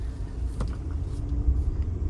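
A Ford eTransit electric van drives along a road, heard from inside as a steady low road rumble and tyre hum with faint whine, continuous and moderately loud, with no talking.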